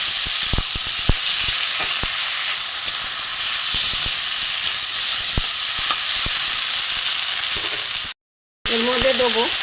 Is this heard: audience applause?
no